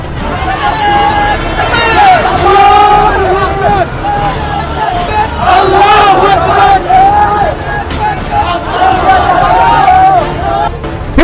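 A large crowd of protesters gathers outside a newspaper office in Dhaka, chanting slogans in loud rhythmic unison over steady crowd noise, with many voices rising and falling together throughout.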